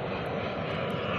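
A fixed-wing airplane flying near Mig Airport gives a steady, loud engine roar that holds evenly throughout, with no voices over it.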